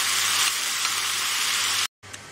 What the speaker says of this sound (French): Je fais revenir dans une casserole mes lardons.